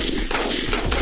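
Gunfire from a joint India-Japan military exercise at the Mahajan field firing range in Bikaner, a loud, dense burst of rapid shots blending into a continuous roar over a second.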